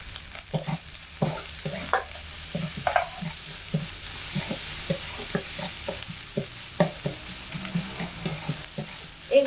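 Spices sautéing with salt and turmeric in a pan over medium heat, a soft low sizzle under repeated rhythmic scraping strokes of a spatula, close and fairly quiet, with no talking.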